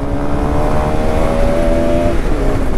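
A KTM 390 motorcycle engine roars steadily at close range on a road, its tone holding a loud buzzing drone, then dipping slightly near the end as it passes.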